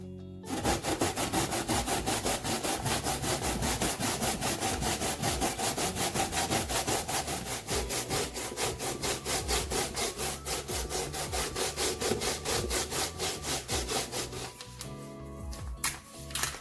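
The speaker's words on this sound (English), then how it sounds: "First, we're gonna grate our potato." Sweet potato being grated by hand for a pudding, a loud steady rasping scrape repeated in quick regular strokes for about fifteen seconds, then stopping abruptly.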